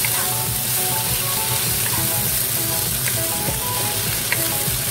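Onion and eggplant fry in a pan, giving a steady, close sizzle with faint crackles and occasional stirring scrapes, heard alone with no voices.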